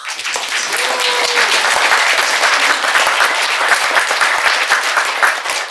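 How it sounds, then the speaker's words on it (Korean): An audience at a Korean digital literature award ceremony breaks into sustained, dense applause, loud and even throughout without a break. "나와 주셔서 감사합니다 하는 것으로 한번 박수"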